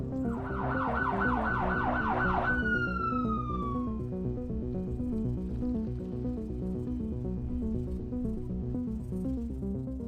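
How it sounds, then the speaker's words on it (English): Sirens wail over a steady rhythmic music track in the video game Batman Unlimited: Gotham City's Most Wanted, rising and falling several times before fading out, sounding distant and thin. "what's that sound of sirens in the distance?"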